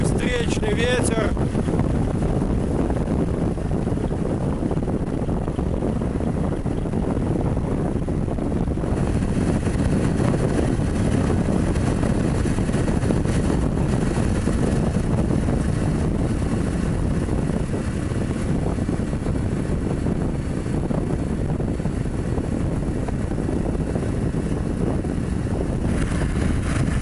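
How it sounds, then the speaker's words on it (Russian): A strong headwind roars around a car driving across open plains in hot Spain, a dense continuous rushing drone that stays loud and unbroken throughout. "Здесь сильный встречный ветер."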